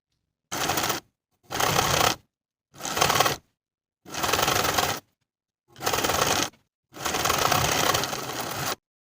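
A sewing machine edge stitching a rolled hem on a V-neck top's ruffle sleeve, running in six separate bursts of rapid clatter with short pauses between them, close and moderately loud.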